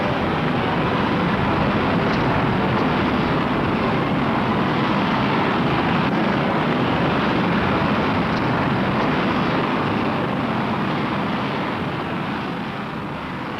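The Apollo 10 rocket launch roars as one continuous, dense broadband rumble, loud and unbroken for the whole stretch and easing slightly at the end, with no voices.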